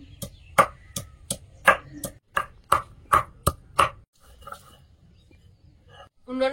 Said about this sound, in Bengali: এবার আদা রসুনটা বেটে নেব।